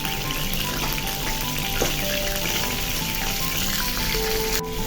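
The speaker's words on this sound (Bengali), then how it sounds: "সবগুলো উপকরণ প্রথমে আমি তেলের সাথে একটু ভাজা ভাজা করে নিব" Spices, salt and onions fry in hot oil for a potato filling, a steady close hiss and crackle of sizzling that runs unbroken from start to finish.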